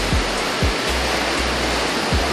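Strong sea surf rolls at El Nido, Palawan: a continuous loud wash of crashing water with a few deeper low surges.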